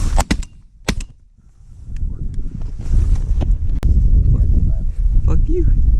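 Shotgun blasts while duck hunting outdoors, a few sharp close reports at the start, then wind noise and hunters talking with occasional fainter shots.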